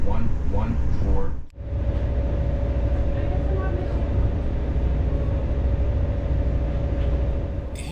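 Interior of a RegioJet loco-hauled passenger train pulling away from Przerów station, a steady low rumble and rolling drone with a faint persistent tone, one brief dip early on, with a voice speaking over it.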